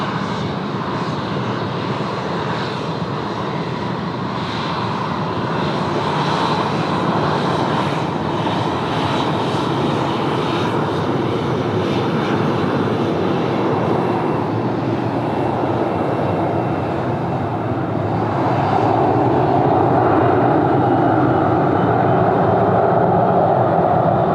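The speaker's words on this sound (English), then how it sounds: "Velocity 812 about to roll past here, heading off on the milk run down to Melbourne" A Velocity aircraft rolls past at Sydney Airport, its jet engines a steady roar and whine that swells louder toward the end, with no talk.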